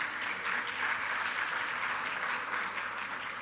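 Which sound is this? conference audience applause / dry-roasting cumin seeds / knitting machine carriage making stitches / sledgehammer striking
conference audience applause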